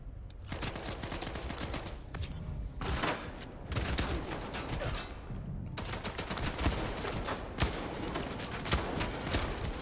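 A firefight in the video game STALKER 2 involving 9mm submachine guns: repeated bursts of rapid gunfire crack out in clusters with short pauses between volleys, moderately loud with no talking.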